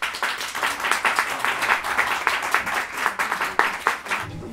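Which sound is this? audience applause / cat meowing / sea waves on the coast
audience applause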